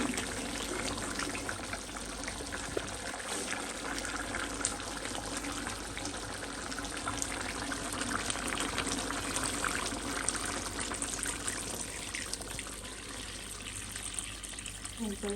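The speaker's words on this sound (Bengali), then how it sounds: "আমি এখন পরিমাণ মতো পানি দিয়ে দেবো মাংসটা বাকিটা সিদ্ধ হওয়ার জন্য" Water is poured into a kadai of braising meat curry to finish cooking it. It makes a steady, faint wash of pouring and splashing that lasts the whole stretch, with quiet kitchen background.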